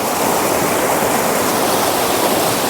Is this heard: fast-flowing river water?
yes